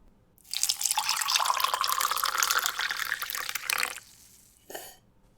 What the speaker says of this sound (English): Now pour the fucking coffee!